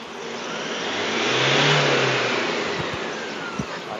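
A Toyota Hilux Vigo Champ pickup engine revs at full throttle for a black smoke test, its roar rising to a sustained peak and then easing back, with a few low knocks near the end.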